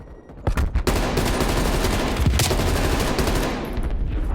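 Rapid automatic gunfire in Call of Duty: Black Ops Cold War, with an XM4 rifle in play, as a loud, dense, continuous burst of overlapping shots that carries on for several seconds, close up and without speech.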